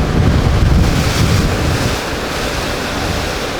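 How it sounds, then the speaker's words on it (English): Strong wind of about 40 knots and breaking waves in the English Channel, heard from a boat as a loud roaring wash with heavy wind buffeting on the microphone, easing slightly midway, no talking. "about 40 knots of wind looks like in the English Channel"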